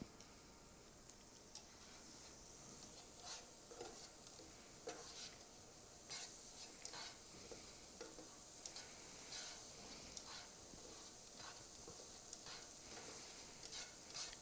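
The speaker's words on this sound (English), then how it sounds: "So the reason I'm stirring this so much is I don't want the garlic to stick to the bottom of the pan" Garlic frying in butter sizzles softly in a pan, a quiet continuous hiss. Frequent light clicks and scrapes from stirring break through it at a steady pace, with no talk.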